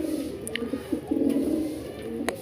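Low, soft cooing from domestic pigeons at a rooftop loft murmurs on and off in a steady throaty drone, with a few faint higher chirps overhead.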